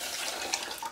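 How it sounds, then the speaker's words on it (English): Water pours steadily into a rice cooker while preparing a perch meal, a soft, close splashing trickle lasting about a second. "I'm going to add some water."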